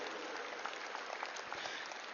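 Audience applause at a satellite channel inauguration ceremony at Kanha Shanti Vanam, a steady, dense clapping from a crowd that holds evenly for about two seconds with no talk.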